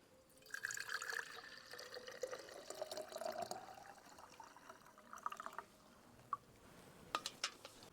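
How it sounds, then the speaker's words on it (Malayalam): Boiled hibiscus water is poured into a jar, making a close, gurgling stream with a shifting tone as it fills, followed by a few scattered drips and splashes. "അപ്പോൾ നമ്മുടെ ഈ ചെമ്പരത്തി ഇട്ട് തിളപ്പിച്ച വെള്ളം നമുക്ക് ഈ ജാറിലേക്ക് ഒഴിച്ചു കൊടുക്കാം"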